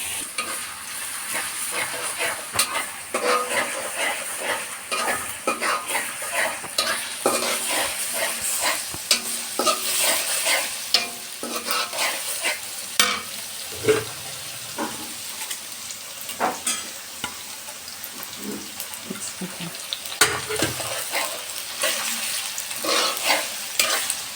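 A cup of onions fries in a wok for bhuna khichuri, giving a loud, continuous close sizzle broken by frequent stirring scrapes and knocks, with no voices.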